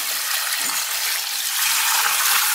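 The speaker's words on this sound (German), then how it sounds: "Und jetzt wird das Ganze bis oben hin mit Wasser aufgefüllt." Water running into a barrel packed with stinging nettles to make fertilizer, a steady close rushing gush that fills the whole stretch without pause.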